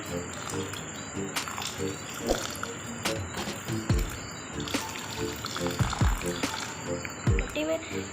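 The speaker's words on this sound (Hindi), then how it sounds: "हम इसके पौधे के अंदर पानी डाल रहे हैं।" Water is poured into dry soil around a potted money plant, a soft trickle and splash that comes in short bursts.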